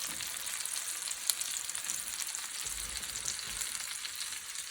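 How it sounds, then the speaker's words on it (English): Red onion and cabbage frying in a pan alongside browning apples, a steady, close, moderately quiet sizzle with a few soft stirring bumps and no talking. "I'm going to add my red onion in here. And I'm going to add my cabbage to the pan."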